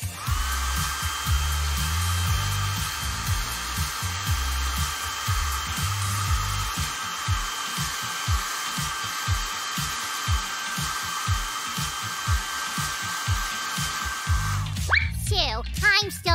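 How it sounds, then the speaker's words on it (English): A steady, loud whooshing hum of a blow dryer removing air bubbles from epoxy resin runs continuously, cutting off near the end, with soft knocking sounds in the background. "We'll use a blow dryer to do that."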